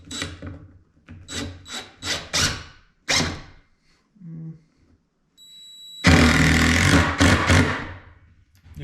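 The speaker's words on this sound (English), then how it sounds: "we're just gonna drive a couple screws through those holes" Power driver sinking 2-inch construction screws through pre-marked holes into wood for a shop drying rack, with short bursts early on, then a long, loud, whining drive that stops abruptly, close by.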